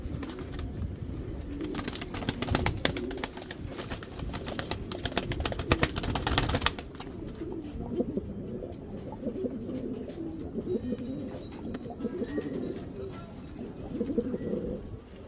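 Soft, low pigeon coos repeat in a steady murmur from a cage, with a burst of rustling or flapping noise early on before the cooing continues alone.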